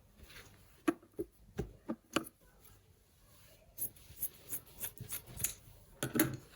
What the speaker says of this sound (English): So I'll fold it into two and cut it out into two.